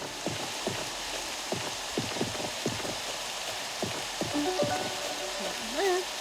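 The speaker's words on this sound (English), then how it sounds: "I love how it's rainy" Steady rain patters and hisses throughout a cozy Chef RPG farming game scene, a continuous even wash with soft pitched game sounds and a few chimes drifting over it.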